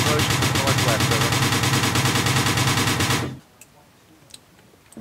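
Sustained automatic gunfire in a military shooter game, aimed at an approaching vehicle: a loud, dense, continuous burst of rapid shots that cuts off abruptly after about three seconds, leaving faint background noise.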